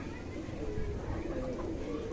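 A blue-eyed pigeon coos softly and steadily in a low, rolling murmur, close by and continuous over a quiet background.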